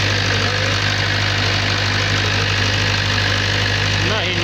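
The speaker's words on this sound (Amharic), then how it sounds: "ባለ 4 ሲሊንደር WG የምትባለው ሞተር ናት።" A rebuilt Weichai four-cylinder WP2 generator engine runs steadily and loud throughout, with a constant low hum and a rough, knocking mechanical clatter.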